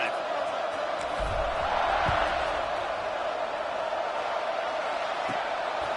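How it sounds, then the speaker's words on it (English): A stadium crowd at a football game roars in a broad, sustained wash of cheering and whooping, with voices mixed in throughout. "this crowd is feeling themselves after that last drive"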